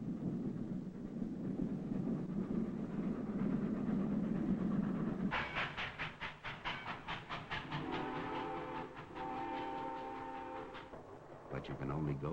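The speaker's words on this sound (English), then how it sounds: "The one sure way to get someplace is on a train." A train rolls along the tracks in early twentieth-century America, first as a steady low rumble, then with close rhythmic wheel clatter and a sustained whistle-like tone sounding over the running noise.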